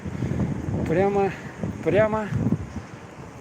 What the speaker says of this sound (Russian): Ух, ветер, блин.